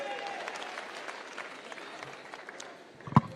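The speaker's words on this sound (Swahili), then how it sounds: "Makofi kwa mheshimiwa tena." A crowd at a political party's presidential candidate declaration in Kenya claps steadily in a dense, even patter, with a single sharper knock near the end.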